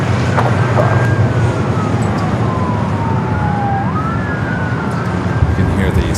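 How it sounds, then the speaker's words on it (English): Emergency vehicle sirens wail at LAX airport, a long rising and falling tone over a loud, continuous roar of airport noise, with voices talking beneath it. "You can hear the sirens, everyone heading to the south side."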